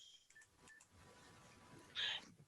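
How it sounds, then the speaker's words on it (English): A mobile phone rings faintly at a sewing competition set, with soft tones before one louder electronic chirp near the end. "who's left their phone on this time?"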